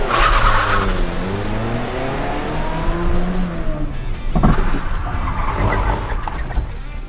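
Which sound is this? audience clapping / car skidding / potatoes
car skidding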